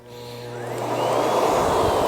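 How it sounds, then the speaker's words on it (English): A Miele Guard M1 vacuum cleaner runs on its lowest suction setting over carpet, its motor whine rising as it spins up and then holding a loud, steady drone. "So I'm going to use the lowest suction from the machine to get that dirt."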